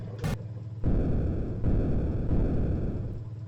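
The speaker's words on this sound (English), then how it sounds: "where the explosion goes up" In an Atari submarine video game, an underwater explosion goes off as a short bright blip followed by a loud, low rumbling roar that swells in several waves and sustains to the end.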